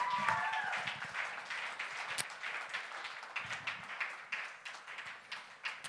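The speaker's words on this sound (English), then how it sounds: "Let's give a big round of applause for our seniors one more time." Applause from a youth group audience for graduating seniors: a soft, scattered patter of clapping hands, fairly distant and modest in volume, continuing steadily with uneven claps throughout.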